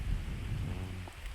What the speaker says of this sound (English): as long as the rain stops a little bit